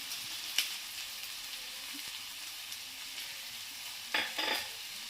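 Tondli roasting in a pan gives a constant sizzle while onion garlic chutney is stirred in, with a sharp spoon knock early on and a short burst of scraping near the end; no one speaks.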